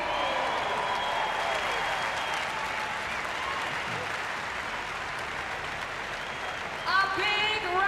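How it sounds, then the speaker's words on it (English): Sustained applause and cheering from a large arena crowd at the 2019 Reebok CrossFit Games, steady and loud throughout, with a brief swell near the end. "A big round of applause for our top"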